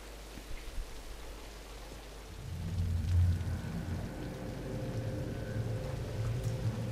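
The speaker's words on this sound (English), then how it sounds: "But it's raining." Rain falls steadily in the video game Singularity, a soft broadband hiss over a low rumbling drone that swells partway through, with no talking.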